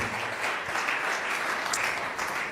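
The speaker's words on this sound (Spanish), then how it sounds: "Le damos un aplauso de bienvenida a Raúl a casa." A congregation's steady, dense applause of welcome for Raúl during a church service, a continuous wash of clapping with no voices over it.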